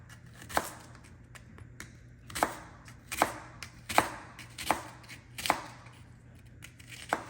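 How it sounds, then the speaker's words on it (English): A knife chops onions on a cutting board in a home kitchen, with about nine crisp, fairly close knocks at an uneven, unhurried pace and no talking. "I'm getting ready to cut up my onions."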